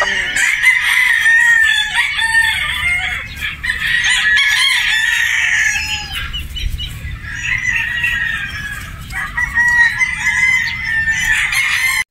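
A Boston Roundhead gamefowl brood stag crows and clucks close by, with repeated loud calls and brief pauses, a few wing flaps, and no talking.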